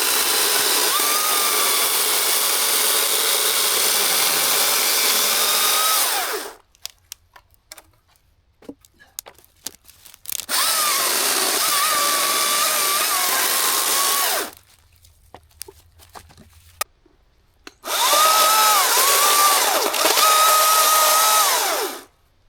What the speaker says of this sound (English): tightening up the pile here with the chainsaw